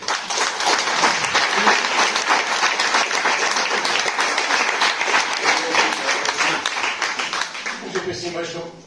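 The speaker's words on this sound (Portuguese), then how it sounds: "e depois uma grande salva de palmas" An audience at a poetry reading session applauds loudly and continuously for several seconds, then the clapping fades out.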